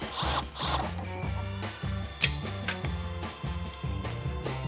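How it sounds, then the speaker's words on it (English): A ratchet backing out a 10 millimeter hold-down bolt on a 2020-or-later Ford GT500, heard as rapid close metallic clicking in short repeated strokes, loud and with no talk. "Now remove your 10 millimeter hold down bolt."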